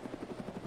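A helicopter in ARMA 3 gives off a rapid, steady rotor thump, close and moderately loud, with a constant drone underneath.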